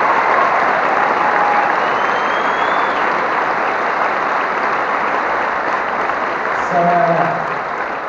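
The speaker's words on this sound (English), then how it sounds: "Give them a round of applause." A choir concert audience gives sustained, dense applause for the tech crew, loud and steady throughout, with a brief spoken word near the end.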